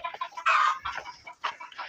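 Chickens cluck and squawk close by in quick, uneven bursts, with one louder call in the middle and no voices.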